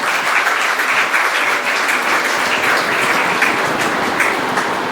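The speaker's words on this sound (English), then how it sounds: "Please give a huge round of applause." Loud, dense applause from a large crowd welcoming the chief guest at a women's degree college annual function, a continuous roar of clapping close and full throughout.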